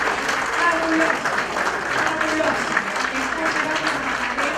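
Attendees at an international notarial law conference give a strong round of applause, steady and sustained, with faint voices blended into the clapping.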